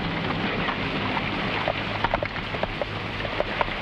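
Rain pouring on a dark night, a continuous hiss of rainfall on surfaces with scattered louder drops and splashes pattering through, no speech.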